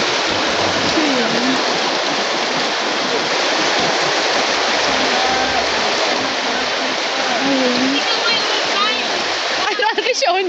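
Floodwater rushes steadily down a flooded street in a constant loud, broadband roar close by, with a person speaking briefly over it near the end.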